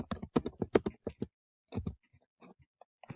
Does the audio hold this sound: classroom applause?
no